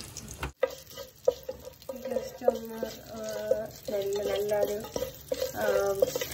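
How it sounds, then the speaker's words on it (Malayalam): Whole cloves, cinnamon, star anise and bay leaf fry in coconut oil in a pot, giving a steady sizzle with stirring scrapes and clinks coming in close bursts, with no talk. "പിന്നെ ബേ ലീഫ് ഇതെല്ലാം ഇട്ട് ഒന്ന് ഒന്ന് വറുത്തെടുക്കാം"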